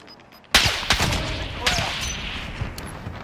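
Gunfire in Call of Duty Cold War Warzone, a sudden loud burst of close shots followed by several more sharp cracks and echoing rattles over a few seconds.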